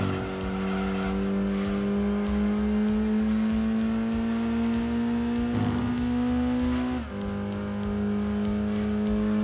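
Race car engine in Gran Turismo 2 on the PS1, droning loud and steady at high revs through a lap, its pitch rising gradually, dipping briefly around a shift, then climbing again.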